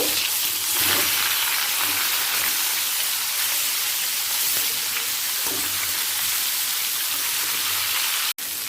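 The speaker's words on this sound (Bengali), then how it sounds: "অপর লাল করে ভেজে নেব" Pieces of katla fish fry in hot oil until reddish, giving a continuous dense sizzle that stays steady and close, with a single sharp click just before the end.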